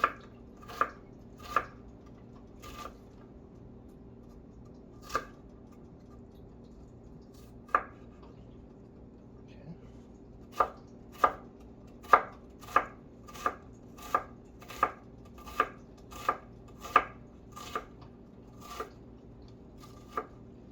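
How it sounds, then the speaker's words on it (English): An onion chopped finely with a knife on a cutting board, crisp isolated knocks at first that speed into a fast, regular run of close, clean chops. "get nice little fine pieces of onion"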